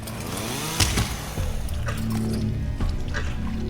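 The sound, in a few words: chainsaw in video game Deep Sleep: Labyrinth of the Forsaken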